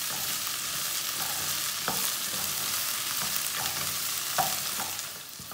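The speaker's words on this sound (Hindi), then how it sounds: "भिंडी को 5 मिनट के लिए पका लेंगे।" Half a kilo of okra stirring and frying in a pan, a steady close sizzle with occasional light clicks of a utensil against the pan, no talk.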